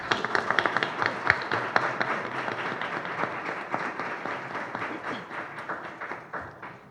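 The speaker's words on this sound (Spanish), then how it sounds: "Le damos un aplauso." An audience at a legislative forum applauds the senator, a broad, sustained round of clapping from many people that peaks early and slowly tapers, fairly close and loud, without speech.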